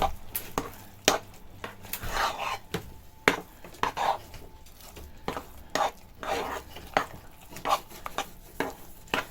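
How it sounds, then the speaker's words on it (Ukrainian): Cheese paska mixture stirred by hand in a bowl, with a utensil scraping and knocking against the sides in an irregular, close rhythm of short clinks and swishes. "Просто перемішуючи. Не потрібен ні міксер, ні блендер, нічого."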